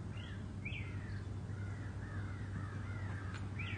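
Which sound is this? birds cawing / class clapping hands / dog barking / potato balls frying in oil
birds cawing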